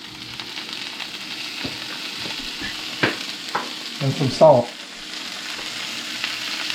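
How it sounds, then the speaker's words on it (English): Fish and asparagus sizzle in a frying pan with a steady, close crackle, and a few louder spits and stirring clatters come partway through while a voice briefly speaks. "You can hear it sizzling."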